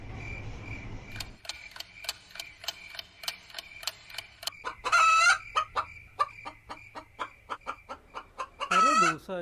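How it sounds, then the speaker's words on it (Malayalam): Chickens cluck in a steady run of sharp, evenly spaced notes, and a rooster crows loudly twice with long sliding calls, close by and with no voices over them. "കുറേ ദിവസമായി കോഴിയുടെ ശബ്ദം കേൾക്കുന്നു"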